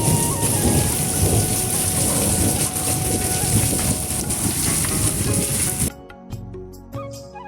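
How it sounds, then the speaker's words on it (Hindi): Heavy rain pours in the mountains with thunder and falling hail, a loud dense hiss of drops hammering surfaces for most of the stretch before it cuts abruptly to quieter sparse patter. "इतनी मोटी बारिश लगी है"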